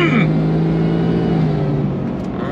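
A supercharged 2023 Shelby F-150 Super Snake truck engine drones loudly and steadily up close, its supercharger whine sliding down at first and then holding a constant rumble.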